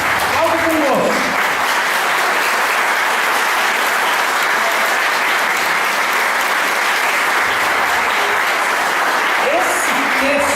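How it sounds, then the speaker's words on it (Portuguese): A church congregation at a seminar applauds Jesus, a loud, sustained roar of clapping and crowd noise that stays thick and even from start to finish, with brief voices rising at the very beginning and end. "Agora aplaude Jesus."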